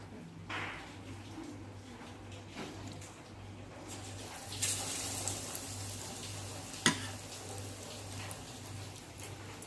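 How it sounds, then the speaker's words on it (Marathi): Vadas deep-frying in hot oil for a Maharashtrian kat vada, a steady soft bubbling sizzle throughout with a few faint clicks and a brief louder clatter near the end, no talking. "याप्रमाणे आपल्याला वडे आपले तळ तळून घ्यायचे"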